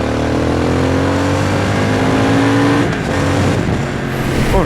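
A 2023 Triumph Speed Twin 1200 parallel-twin motorcycle pulls hard under acceleration, its loud engine note climbing steadily through the revs with a brief dip partway as it shifts, close and continuous with no talk.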